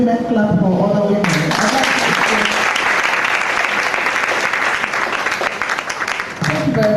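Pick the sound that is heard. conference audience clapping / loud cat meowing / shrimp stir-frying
conference audience clapping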